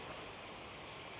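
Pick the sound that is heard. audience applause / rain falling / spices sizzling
rain falling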